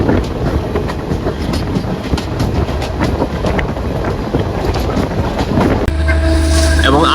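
A passenger train running on the Jammu–Srinagar line near Banihal, a steady loud rumble of wheels on track with faint clatter, shifting to a different cabin tone near the end.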